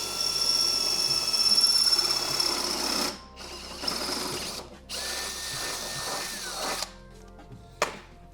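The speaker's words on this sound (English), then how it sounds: "and drill that hole" Power drill boring a hole in metal while installing a front arm drop kit on a 2025+ Polaris, a loud continuous whine with brief pauses and restarts, close up.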